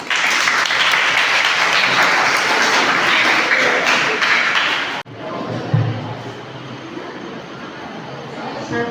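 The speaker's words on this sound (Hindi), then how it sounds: "ताली बजाइए" Dense, loud applause from a school debate competition audience fills the first five seconds, then cuts off abruptly to quieter room noise.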